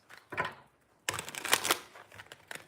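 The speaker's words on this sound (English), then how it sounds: "Shuffle some cards." Tarot cards being shuffled by hand: a short riffle of papery flicks, a brief pause, then a longer burst of crisp card shuffling, close and fairly quiet.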